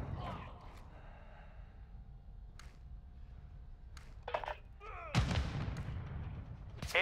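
Call of Duty: Modern Warfare II match on the Mercado Las Almas map, with scattered distant shots and sharp bursts of gunfire rising louder toward the end amid game effects and radio callouts.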